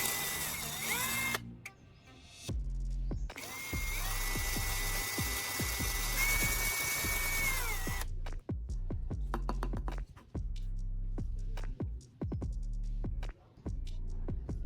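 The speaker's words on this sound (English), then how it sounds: "I'll use a drill to carefully bore through the wood." A power drill boring through wood whines steadily in long bursts, stopping and starting, with a low throbbing hum underneath and short taps between runs.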